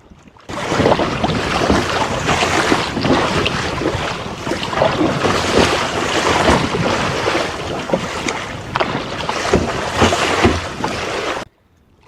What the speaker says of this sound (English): The wind is not letting up today, but that's okay. It makes it more fun and it's splashing me